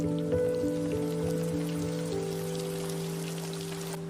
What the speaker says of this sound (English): The rain starts falling again.